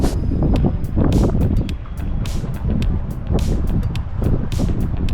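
A slow-moving rented boat off Alghero, Sardinia, with a low motor rumble almost buried under heavy, continuous wind buffeting on the microphone and occasional sharp crackles and splashes.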